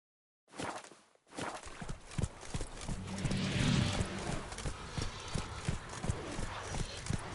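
Roach, a horse in The Witcher 3: Blood and Wine, moving at pace, with rhythmic hoof clip-clops on the ground and a brief whinny, near and clear over faint game ambience.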